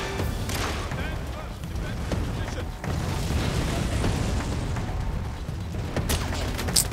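Gunfire in the James Bond shooter 007 Legends during the Goldfinger Auric Enterprises level: dense, continuous rattling shots and booms of a firefight, loud and sustained throughout with heavy low rumble, under occasional talk.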